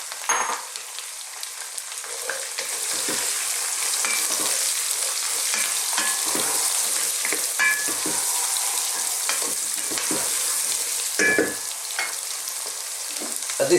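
Chopped onions, carrots and celery fry in a pan for a vegan Indian vegetable curry, giving a steady, dense sizzle with stirring and scraping over it throughout, no voices.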